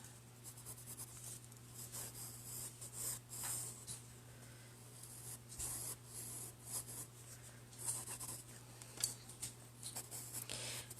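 A pencil sketches a rough teapot still life in a sketchbook: close, faint, continuous scratchy strokes rising and falling in short sweeps over a quiet hum.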